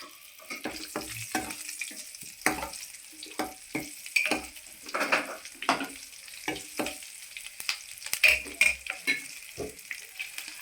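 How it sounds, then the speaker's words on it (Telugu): Green chillies frying in a wok for a pusa parigala fish curry, a steady close sizzle broken by frequent sharp scraping and clinking strokes of a spatula against the metal, with no voices. "ఇప్పుడు అదేమో కిట్లో ఈ పచ్చిమిరకాయలు వేపేసుకుందాము"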